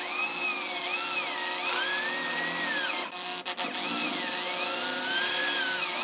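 A drill bores through a metal plate into a wooden block beneath, giving a loud, close, continuous whine that bends in pitch as the bit bites, with a brief drop and stutter midway.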